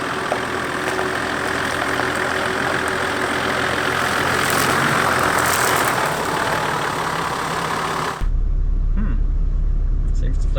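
Toyota Landcruiser with a 1HDT diesel engine during an off-road flex test, a steady engine rumble and knock under continuous talk, cutting abruptly to a low, deeper drone near the end.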